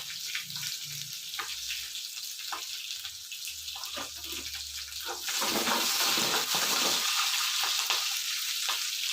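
Green chili, garlic and ginger sizzle steadily in hot oil for a jackfruit-seed palya, with a few stirring scrapes; the frying grows louder and denser about halfway through. No talking.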